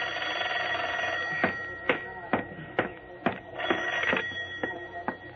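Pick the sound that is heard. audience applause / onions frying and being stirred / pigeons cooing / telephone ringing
telephone ringing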